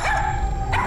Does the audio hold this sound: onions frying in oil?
no